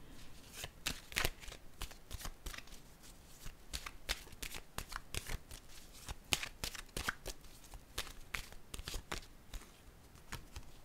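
Tarot cards are shuffled by hand close up, a long run of crisp riffling and slapping strokes in an irregular rhythm, fairly quiet with no talking over it.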